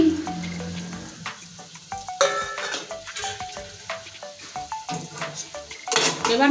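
A spoon scrapes and clinks against a metal pot while stirring a pea lentil and potato curry with grated coconut, producing irregular ringing taps and scrapes over a soft sizzle.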